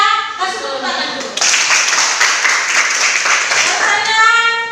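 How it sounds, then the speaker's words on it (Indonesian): A high school class claps hands together in a classroom, a burst of many hands applauding loudly for a few seconds, bracketed by voices at the start and end. "Kasih tepuk tangan dulu."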